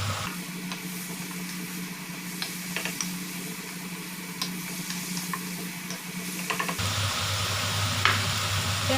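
Celery and vegetarian tofu are stirred together in a hot pan, a steady quiet sizzle carrying light scraping and tapping of a utensil, with the frying hiss shifting and growing a little louder near the end.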